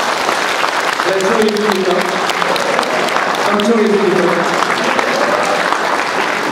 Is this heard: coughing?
no